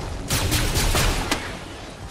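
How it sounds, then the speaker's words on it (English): Rapid gunfire in a video game, several sharp shots and bursts scattered across a couple of seconds over a steady low background rumble. "he just shot at you"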